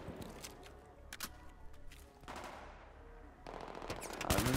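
Rapid automatic gunfire from Battlefield 3 crackles in several sharp bursts with short gaps between them, moderately close and fairly quiet overall, with no talking over it.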